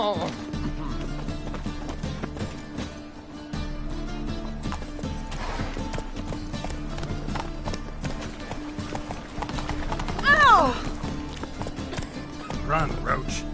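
Roach, Geralt's horse in The Witcher, gallops in a steady, rapid drumming of hooves under game music, with a short whinny or shout near the end.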